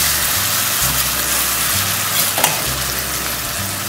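Hot pepper chicken fries loudly while ginger syrup is stirred through it, giving a strong, steady sizzle over a low, cycling engine-like hum, with a brief clatter midway and no talking.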